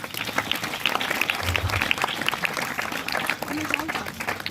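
A classroom of students applauds their teacher at a school farewell, dense continuous clapping that holds steady throughout, with some voices mixed in.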